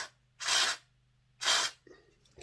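Two short hissing bursts of contact cleaner sprayed onto parts of a Hornby R857 Ivatt Class model locomotive during repair, close and fairly loud, separated by about a second of quiet, followed by a faint handling noise.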